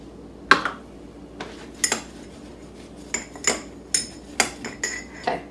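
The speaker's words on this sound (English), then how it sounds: "Going to give that a quick stir" Protein powder stirred in a container, a spoon clinking and knocking against the sides in sharp separate strikes, roughly a dozen taps spaced through the stretch, fairly close.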